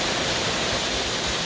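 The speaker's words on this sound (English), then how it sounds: "this is the next cool little waterfall" A small waterfall tumbling into a shaded canyon pool at Caboolture River Falls in Queensland, a steady, close, full-bodied rush of falling water with no break and no voices.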